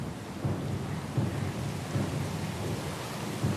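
Steady rain and a rumbling storm at sea in the Pillars of Eternity II: Deadfire role-playing game, a dense continuous wash of rainfall with low rolling thunder swelling at intervals, no voices present.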